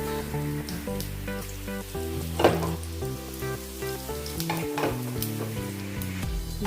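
Mustard seeds and cumin hit hot oil in a pan and crackle steadily, a sizzle partly buried under loud, continuous background music with no talking.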